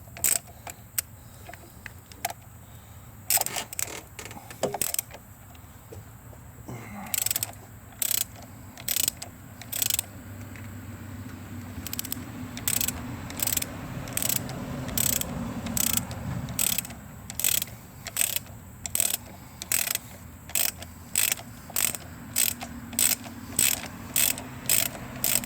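Ratchet clicking in quick repeated bursts while loosening engine mount bolts on a Chevy Cruze 1.4L turbo, sharp close metallic ticks with short pauses between strokes, over quiet workshop background.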